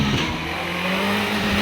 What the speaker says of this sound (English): With 640 horsepower of Nicholson McLaren V8 under his right foot, Moran powers up to Bunny's Leap